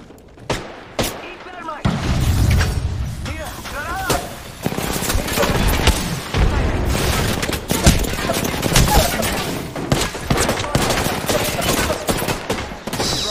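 Heavy, sustained automatic fire from a dragon enemy in a shooter video game, with loud close-range rattling bursts and thuds. Someone talks over the barrage throughout.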